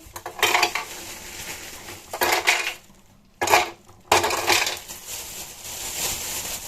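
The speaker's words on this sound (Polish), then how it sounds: "Wrzucamy lód." Ice being tipped into a home ice-crushing machine, heard as loud rattling, grinding bursts that come and go in several separate runs.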